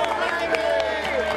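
A crowd gives a round of applause for Dona Zoraide, honored for 45 years devoted to her club: steady, dense clapping with cheering voices mixed in, held at an even level throughout.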